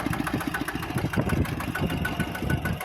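A modified walking tractor's engine runs steadily, with a rapid, even chugging pulse that stays close and moderately loud, and no voices.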